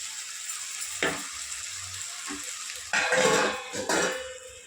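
Tomatoes cook down in a pan for a dried fish and cucumber curry, giving a soft steady sizzle with occasional louder bursts of stirring and scraping against the pan.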